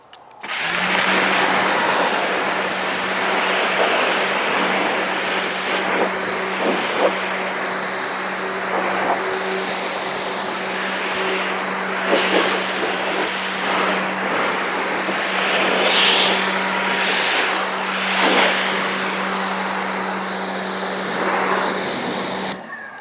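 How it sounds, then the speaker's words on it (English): High pressure cleaner motor running steadily through a water siphon test, a loud continuous hum with a strong low drone and hissing spray, unbroken for the whole stretch with a few small bumps. "the motor does sound slightly different"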